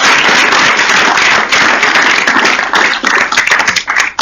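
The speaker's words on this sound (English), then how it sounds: "So a round of applause for everyone here." Loud, dense applause from a crowd, a steady wash of clapping that continues without a break.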